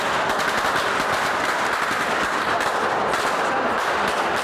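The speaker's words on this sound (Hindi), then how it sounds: "आप देख सकते हैं कि मुसलसल फायरिंग है, फायरिंग का सिलसिला जारी है" Continuous rapid gunfire from a SWAT team operation against armed criminals, a dense, unbroken crackle of shots filling the whole stretch at steady loudness with no pauses.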